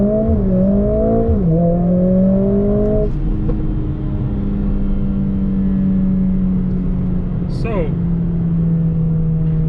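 A 2020 Mercedes-AMG CLA 45 S launches from a race start, its engine note climbing in pitch through quick gear changes before settling into a sustained drone at speed, heard from inside the cabin with a brief word spoken at the start.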